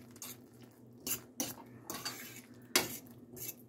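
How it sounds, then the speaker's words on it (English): Carrots sautéed for a chicken pot pie filling, with a utensil clattering and scraping against the pan in several quick bursts over a faint background. "I call myself sauteing the carrots."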